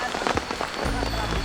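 Rain pattering steadily on a surface while it is caught as water on a mountain in North Kalimantan, a dense, close hiss of drops with a heavier rumble building partway through.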